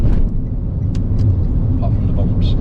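Steady low road rumble fills a kei car's cabin at motorway speed, with engine drone and a few brief higher knocks and rattles over the top.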